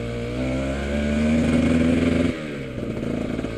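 The engine of a 2009 Cagiva Raptor 125 motorcycle runs loud and close, revving up in a rising drone, then dropping sharply back to a lumpy, burbling idle.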